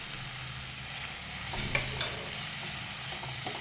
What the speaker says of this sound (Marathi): ह्याला परतून घेऊया हळद टाकून आणि ह्याच्यात तिखट टाकून घेऊया आपण